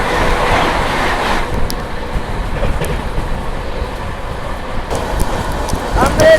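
The Patna Tejas Rajdhani Express passes close by, a loud continuous rush of wagons with clattering wheels and brief metallic squeals, while a voice talks faintly underneath.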